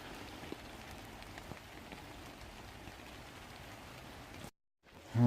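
Steady rain patters on a tarp in the woods, a soft even hiss of drops throughout, ending in a brief gap and a louder thump.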